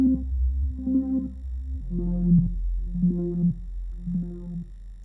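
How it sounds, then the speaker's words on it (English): A Drambo sample-and-hold filter is driven by a sine LFO, so a buzzy synth tone jumps between discrete pitch-like steps, rising and falling over a steady low drone, with no voices. "you will hear an effect of step going up and going down in a waveform which is dictated by the LFO, which will be sine wave"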